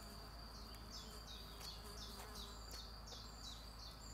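Mosquitoes whine steadily in the open air, a thin high buzz repeating in short rising sweeps over constant outdoor background noise.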